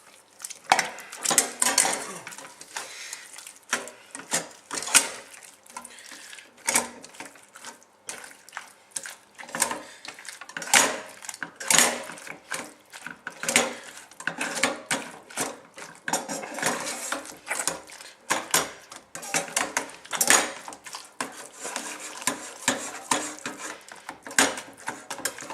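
A potato masher works cooked potatoes with butter in a pot for homemade shepherd's pie, making a long run of irregular thumps, clanks and wet scraping against metal. It stays close and busy, with no talk.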